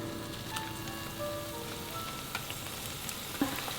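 Zucchini fritters deep-frying in hot oil sizzle with a steady, faint crackle and pop, heard alone with no voices.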